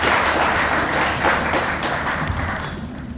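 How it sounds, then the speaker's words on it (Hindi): Audience applause at the Shikhar Savarkar Award 2023 ceremony welcoming Ranjit Savarkar, a dense, steady wash of many hands clapping throughout, fairly loud and fading slightly toward the end. "जोरदार तालियाँ श्री रणजीत सावरकर जी के लिए।"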